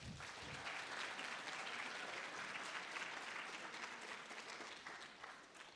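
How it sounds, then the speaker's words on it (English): At a generative AI hackathon closing ceremony, a room full of attendees claps for themselves, a steady, dense burst of applause that holds and then begins tapering near the end, captured at low volume. "So give yourself a clap before we start."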